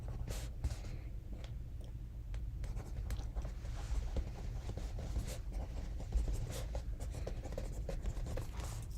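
A pencil scratches on paper in a quiet room, faint and close, with soft irregular strokes and small taps continuing throughout.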